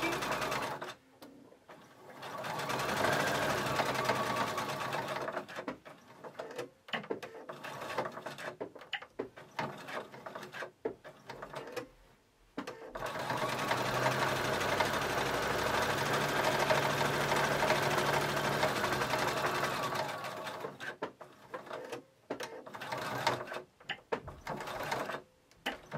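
A home sewing machine stitches a fabric face mask in quiet bursts, running for a few seconds, pausing, then a longer steady run in the middle before stopping and starting again in short spurts.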